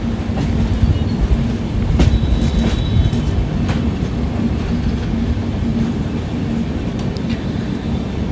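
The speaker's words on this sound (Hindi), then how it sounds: "ट्रेन धीरे धीरे अब वडोदरा की तरफ बढ़ रही थी" The non-AC Darshan Express passenger train rolls toward Vadodara with a steady, loud rumble of wheels on track, soft rhythmic clacks and a faint squeal, heard from inside the coach with no talking.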